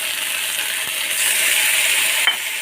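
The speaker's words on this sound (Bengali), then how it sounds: "দিয়ে মশলাটাকে ভালো করে কষবো" Spice paste with ginger and a splash of water sizzles and fries steadily in a pan, a continuous close hiss with a light stirring scrape near the end.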